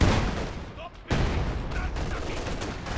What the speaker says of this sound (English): It's just going to come in for a barrage